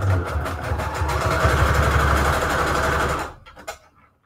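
A sewing machine runs a zigzag stitch on paper and fabric scraps for junk journal embellishments, a close, loud, steady rapid whirring hum that stops abruptly near the end, followed by a few faint clicks.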